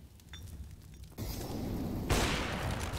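A bomb explodes in a CS:GO match, a sudden broad roaring blast that swells into a louder rumbling boom and keeps roaring to the end, following quieter game noise.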